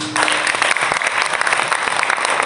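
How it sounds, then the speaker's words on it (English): Loud applause from an audience at a college English department annual function after students recite their own poems, with brisk, crackling clapping and sharp individual claps throughout. "Big clap for these own creations"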